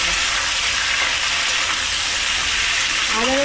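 Potatoes frying in fish oil in a pan, a steady loud sizzle and crackle that runs unbroken throughout, close by and without pause.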